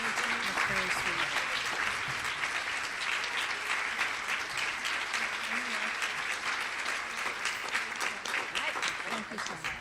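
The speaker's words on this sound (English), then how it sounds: "they're giving a nice applause" Sustained applause from an audience at a literacy research conference plenary session, steady dense clapping throughout with a speaker's voice occasionally heard over it.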